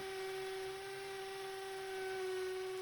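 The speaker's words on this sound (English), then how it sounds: "Now we'll drill the second hole exactly the same on the mark" A steady high-pitched power drill whine runs without a break for a few seconds while drilling a hole in a wall for a wall plug, close by, with no voices over it.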